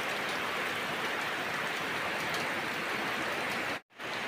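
Heavy autumn rain pours down in Assam, a constant loud wash of drops on surfaces that cuts out for a moment near the end before resuming, with no one speaking.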